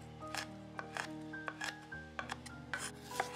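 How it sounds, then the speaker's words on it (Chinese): Knife chopping small chili peppers (xiaomi la) on a cutting board, a run of quick irregular taps close by, over a steady low background hum with no talk. "辣椒切碎"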